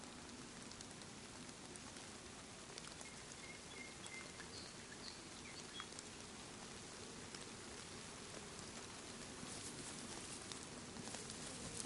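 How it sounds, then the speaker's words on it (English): Steady, quiet rainfall in DayZ hisses throughout, a constant wash of drops with faint chirps in the background and no talking. "It's raining."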